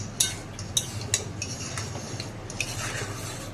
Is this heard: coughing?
no